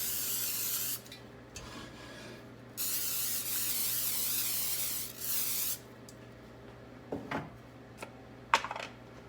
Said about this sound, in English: I'm going to spray my cast iron